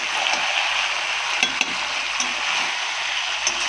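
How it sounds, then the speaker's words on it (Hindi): Spice masala for a spicy chicken curry gravy sizzling steadily in a pan, a loud close frying hiss with occasional light scrapes and taps of stirring, with no talking. "थोड़ा लाल करके मसाला भूंजेंगे"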